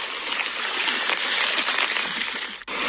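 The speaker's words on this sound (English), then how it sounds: "Flood water has flowed like a river through Uya's Harold in Herefordshire" Flood water surging like a river through Ewyas Harold in Herefordshire, a steady, close, rushing wash that stays loud throughout before a brief dip near the end.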